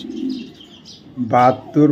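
Racing pigeon from the BRPFC club, giving a soft low coo near the mic, then a louder, sharper call and a short final note.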